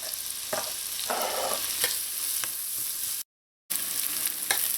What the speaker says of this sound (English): add your onions and your hot pepper, and just let this soften a little bit in here